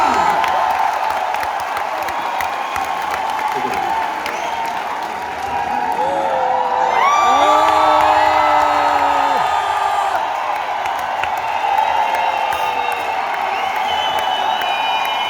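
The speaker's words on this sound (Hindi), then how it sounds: "मैं चाहूंगा एक बार जोरदार तालियां" Applause and cheering from a large audience at an award function in Thyagraj Stadium: sustained, loud clapping with whoops and cheers rising midway, along with tonal music or sweeping effects over the crowd.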